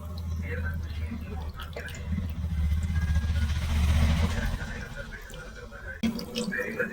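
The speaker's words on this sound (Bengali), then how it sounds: "এবার এতে জল দিয়ে ছানাটা পুরো পরিষ্কার করে নেব।" Running water splashes over fresh chhana cheese curds as they are rinsed clean, a steady pouring wash with some dripping and a low background hum, swelling midway then easing.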